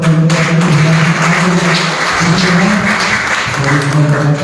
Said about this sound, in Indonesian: sekali berikan tepuk tangan apa kepada Tuhan